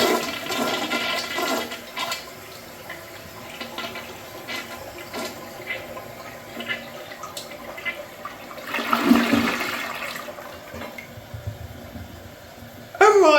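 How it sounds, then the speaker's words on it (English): A 1980s Kohler Barrington toilet flushes in a close, loud rush of water that swirls and drains over several seconds, swelling near the end and trailing off into quieter refill trickling. "Let's have a look at a flush."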